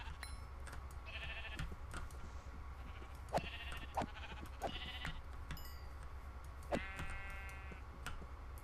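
Sheep in a modded Minecraft game, several short synthetic bleats at intervals over a faint steady background with light ticking clicks.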